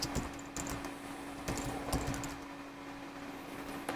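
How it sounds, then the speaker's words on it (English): Someone types a password on a computer keyboard in quiet, scattered bursts of soft key clicks. The taps are close but faint over a steady low hum, with no talk. "Type in your password."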